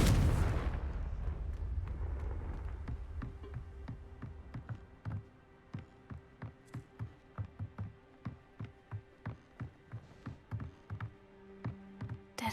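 A Confringo spell in a Hogwarts video game bursts in a big booming explosion, then a long decaying rumble gives way to a series of sharp rhythmic cracks and taps repeating steadily until the end.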